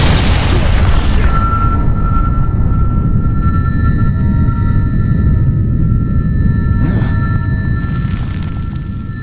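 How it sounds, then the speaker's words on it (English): Mortar shelling in the Sniper Ghost Warrior 2 video game: a single heavy boom at the start swells into a long, loud, continuous rumble that slowly fades toward the end. "what's the story with those mortars?"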